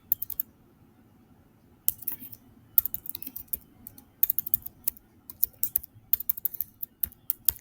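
Typing on a computer keyboard, crisp clicking keystrokes in irregular bursts separated by pauses, close and clear over a quiet low hum.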